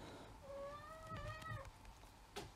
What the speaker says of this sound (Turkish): Sev beni, sev beni diye bağırıyor kedi.